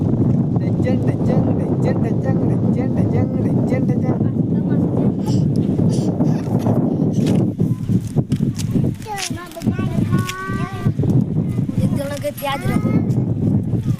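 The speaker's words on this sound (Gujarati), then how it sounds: "પવન તો બહુ છે." Strong wind blowing across Dantiwada dam, a constant loud buffeting roar on the microphone throughout, with people's voices heard under it toward the end.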